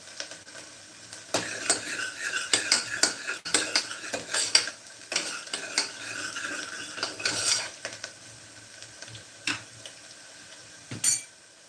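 A spoon stirs and scrapes against a metal pressure cooker with irregular clinks and knocks, over a faint sizzle of tempering spices frying.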